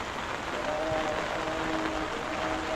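Heavy rain falls outside onto a rooftop in a dense, steady hiss, unbroken and fairly close, with a faint tone drifting underneath.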